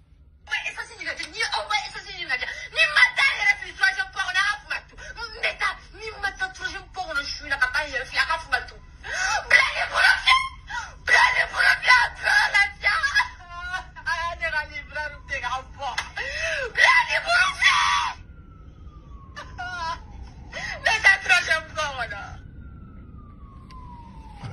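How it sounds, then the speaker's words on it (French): Shared footage of people crying and a girl screaming amid a fuel shortage in Mali, loud continuous wailing and anguished voices, with someone speaking over it. "Je vois aussi une fille qui est en train de crier."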